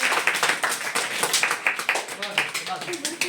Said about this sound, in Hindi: बहुत बढ़िया, जोरदार ताली बजाइए।